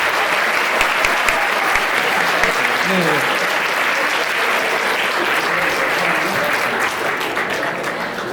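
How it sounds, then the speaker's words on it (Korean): A crowd applauds steadily throughout at a hotel wedding ceremony, dense clapping filling the room at a constant level before tapering slightly near the end. "박수 한번 부탁드리겠습니다."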